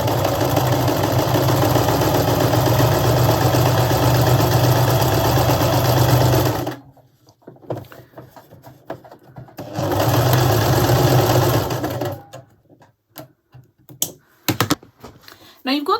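A sewing machine runs in two bursts of rapid, steady stitching, about seven seconds and then two seconds, as scrap fabric pieces are sewn together, with quiet handling sounds in between and a few short fabric and table clicks afterward.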